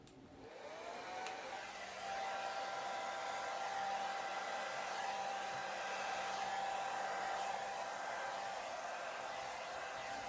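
A hair dryer blows out wet acrylic pour paint, a steady close airy roar that starts up and holds constant throughout.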